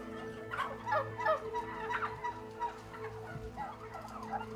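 Dense chorus of domestic turkeys gobbling inside a crowded broiler-style shed holding thousands of birds, overlapping calls rising in bursts over a steady low ventilation hum.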